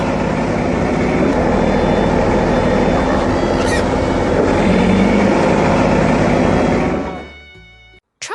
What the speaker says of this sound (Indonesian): Suara mesinnya menggelegar, menggerakkan tanah dengan kuat.